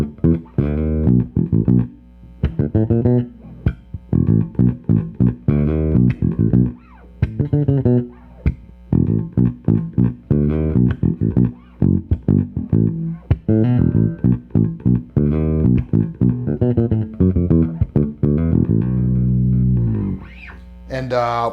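Fender Player Series Jaguar bass played fingerstyle on the J bridge pickup alone, a busy run of punchy plucked notes with short gaps, close and prominent with no talking.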